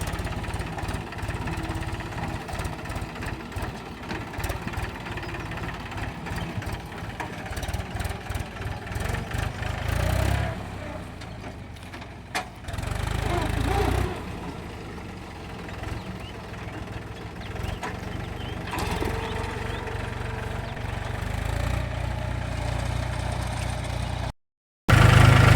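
A tractor engine runs steadily out in a farm field, a continuous low, throbbing drone that holds near and fairly loud for most of the stretch, dipping briefly before cutting out near the end.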